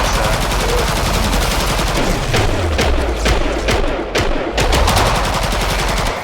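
Loud, dense rapid gunfire from Killing Floor 2, sustained bursts of shots with booming impacts filling the whole clip, close and continuous with a voice briefly over it.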